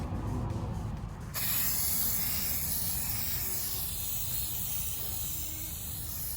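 Silver spray paint hisses steadily from an aerosol can in a garage during an LS swap on a Pontiac G8, a continuous close wet spray with a short pause near the start.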